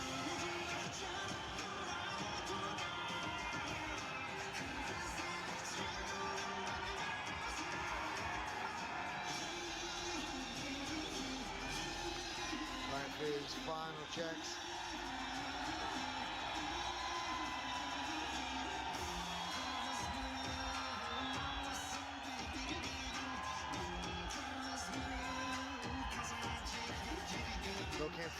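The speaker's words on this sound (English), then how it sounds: "Just listen to that crowd as he makes his way into the cage." Crowd cheering and whooping as a 26-year-old fighter walks to the cage at a fight event, a steady loud roar with yells throughout, under a commentator's talk.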